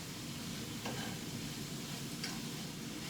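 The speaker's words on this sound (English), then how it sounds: "Give that a stir." Chickpeas, greens and artichoke hearts being stirred in a pan, a continuous soft sizzle with a couple of faint scraping strokes, quiet and close throughout.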